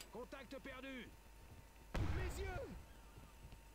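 A single loud grenade blast in the shooter Far Cry booms out between stretches of faint game voices.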